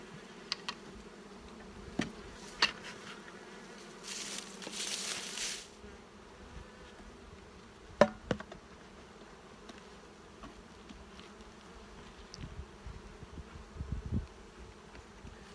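Honey bees of a wintered nuc colony hum softly and faintly, with a few brief clicks and ticks and one stronger buzzing swell partway through, no voices.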